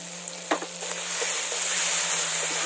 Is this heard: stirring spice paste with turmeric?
yes